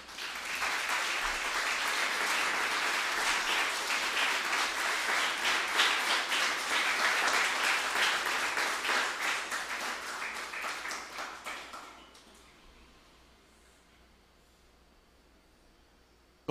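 A church congregation breaks into sustained applause for the Lord during a Sunday sermon, a steady wash of many hands clapping at moderate distance that fades quickly into quiet room tone.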